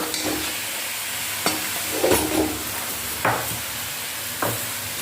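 Onions and chillies fry in a pan with a steady sizzle, while a spoon stirs them in several distinct scraping strokes spaced a second or so apart, close and fairly loud, with no talking.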